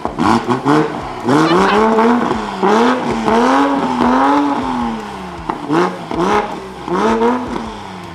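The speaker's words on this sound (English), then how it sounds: "Dude, this is the best sounding Supra ever." A Toyota Supra built for off-road use revs loudly up close, its engine note climbing and falling in repeated swells with brief pauses between bursts, loud throughout with no talk.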